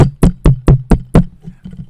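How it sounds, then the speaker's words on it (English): Five sharp knocks in a quick, even rhythm, followed by a few softer taps, sound loud and close. A storyteller's hand knocking on a door during a tale, with no speech over them. "he went home and he knocked on the door"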